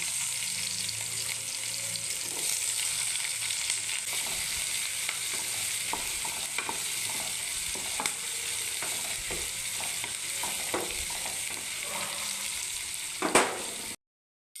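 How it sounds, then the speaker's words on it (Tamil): Onion fries in hot oil as tempering for a Chettinad chicken masala curry, giving a continuous close sizzle with spatula scrapes and taps throughout, then stopping abruptly. "எண்ணெய் ஊற்றியாச்சு வெங்காயம் போட்டு தாளிச்சு"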